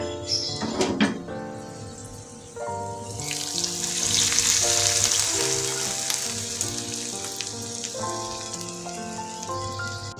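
Onions sizzling as they drop into hot oil for sambal pecak, a bright crackling fry that swells after a few seconds and keeps hissing steadily up close, with kitchen clatter and tones in the background.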